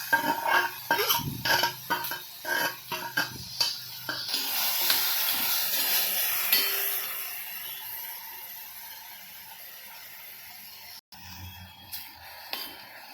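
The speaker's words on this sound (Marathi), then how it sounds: "तूप छानपैकी वितळलं आहे तर त्याच्यात आपण ना हे बीट आपण जे बारीक केलेलं आहे ना मिक्सरमधून तर ते आपण त्याच्यात छान सोडणार आहोत आणि परतून घेणार आहोत" Grated beetroot, blended fine in a mixer, tipped into melted ghee and sautéed in a pan, giving a steady sizzle with scraping stirs and clinks of utensils, loud at first and then settling to a quieter hiss.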